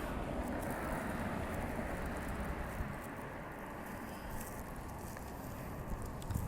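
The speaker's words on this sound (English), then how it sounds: "Wind is dying down a little bit" Wind blowing outdoors, a steady broadband rush and rumble buffeting the microphone, fairly constant in strength throughout with no talking.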